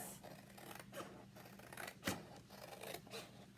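Scissors snip through homespun cotton fabric along a cut line during a craft project, a steady series of soft, rhythmic crunching cuts with one sharper closing snip, close and fairly quiet with no talk.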